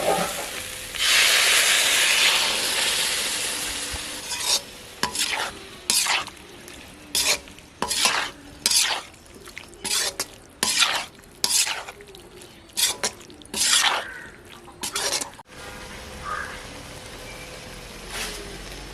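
Goat lung masala stirred in a pan with its cooking water, a spoon scraping in repeated short strokes over a steady bubbling sizzle, close and fairly loud, with no talking.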